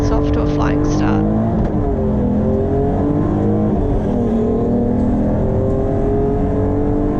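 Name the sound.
race car launching off the grid at race start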